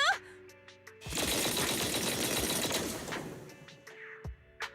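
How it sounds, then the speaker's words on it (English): Heavy cannon fire in Zenless Zone Zero erupts as a dense roaring barrage of blasts lasting a couple of seconds, framed by scattered sharp game effect hits and clicks before and after. "That was the sound of a heavy cannon?"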